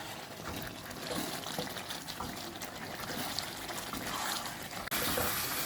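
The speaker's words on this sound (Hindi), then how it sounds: "फिर हम इसमें पानी शामिल करेंगे।" Water pours steadily into a pot of chicken curry for several seconds, a close, continuous trickling splash with a sudden louder burst at the end.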